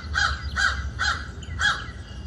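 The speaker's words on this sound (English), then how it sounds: "More of a caw, caw, caw." Four loud, evenly spaced caws from a nearby crow, harsh and slightly nasal, repeating in a steady rhythm over low background rumble.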